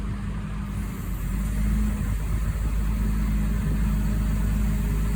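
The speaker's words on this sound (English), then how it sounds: "All right, we're loading this skid steer." A skid steer loader's diesel engine runs at a steady, loud, close idle and load as the machine is driven up onto a trailer, the low rumble holding constant throughout.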